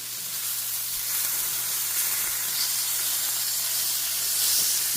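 Steady, bright sizzling hiss of French toast frying on a hot griddle, hotter in the middle than at the edges, with a faint low hum beneath and no talking.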